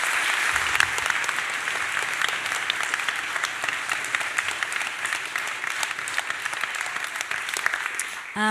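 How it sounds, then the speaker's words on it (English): An audience at a school carol service gives a long, even round of applause, many hands clapping in a dense wash that holds steady for several seconds. "Can you give them a big round of applause"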